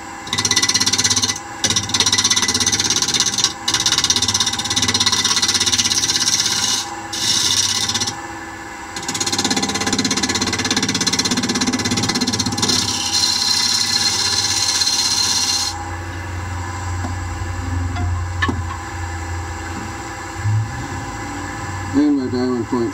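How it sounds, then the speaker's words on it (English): A small wood-turning gouge cuts into a bowl spinning on a lathe, giving a loud, continuous scraping rasp with brief pauses, then a lower, steadier rumble; a voice talks over parts of it. "I switched to a smaller gouge to get into there"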